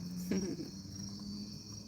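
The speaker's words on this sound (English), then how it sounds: "Do you hear all the crickets?" Steady, faint high-pitched insect chirring fills the background on a chicken farm at dusk, a continuous cricket chorus with a brief low thump near the start.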